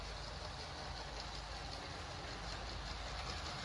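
A Lego City toy train runs along its tracks through a large layout, a steady, faint rolling hum and rattle that continues evenly with no talking.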